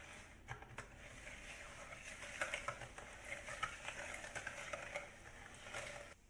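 Egg, sugar and butter are mixed in a bowl, giving a faint, continuous scraping and soft wet churning with irregular small clicks, heard up close and alone.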